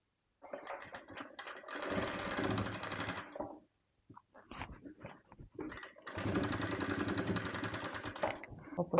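A sewing machine stitches a baby frock in two longer runs separated by short stops and soft handling noises, heard close and clear.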